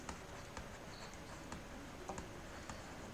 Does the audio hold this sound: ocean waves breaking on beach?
no